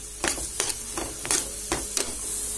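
Vegetables stirred in a pan over a low flame for creamy white sauce pasta, several soft scraping strokes at an even rhythm over a faint steady sizzle.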